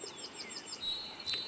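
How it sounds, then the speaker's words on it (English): Birds chirp outdoors on a West Virginia morning, a quick series of faint, high, repeated tweets followed by a couple of sharper calls, with no talk. "I'm just listening to the birds."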